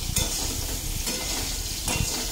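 Potatoes frying in a pan, a steady close sizzle with bursts of stirring and scraping as the pieces are moved around, no voices over it.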